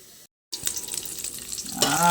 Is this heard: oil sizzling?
yes